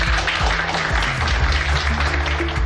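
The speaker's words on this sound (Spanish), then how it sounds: "Un aplauso." Wedding guests applaud right after a civil marriage is pronounced, a dense, steady wash of clapping with music or voices underneath.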